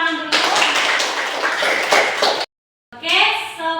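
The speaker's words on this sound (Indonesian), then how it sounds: "tepuk tangan dulu" A class of Indonesian students claps on cue during a religious studies session. A burst of mixed clapping and voices runs for a couple of seconds, cuts to silence, then a brief resumption of clatter follows.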